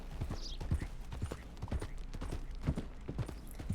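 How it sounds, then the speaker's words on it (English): Horse hooves pound out a fast galloping rhythm in a video game, repeated thudding clip-clops at steady pace, moderately quiet, with no talking over them. "I also really like the sound of the horses running."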